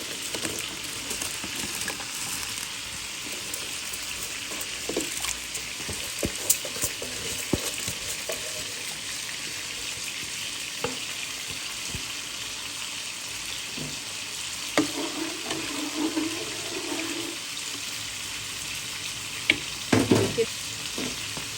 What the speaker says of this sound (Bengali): এই যে এই পর্যন্ত 1 কেজি চাল ভেজে নিলাম